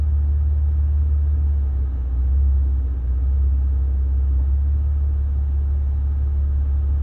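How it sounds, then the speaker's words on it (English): A 2020 Maserati engine idles in a repair shop, a steady low rumble that swells slightly and eases again as the revs drift up and down, with no voices over it. "And that RPM just keeps going crazy. He's going up and down, up and down."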